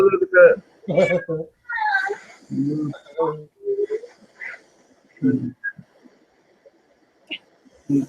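A house cat meowing several times, short high cries close by, with a person talking around and between the meows.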